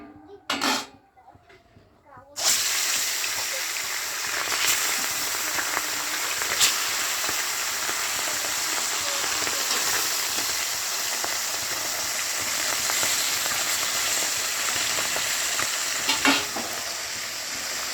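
Bhola fish drops into hot mustard oil in a pan and fries with a loud, steady, crackling sizzle that runs on after a brief quiet moment with a few words of speech at the start.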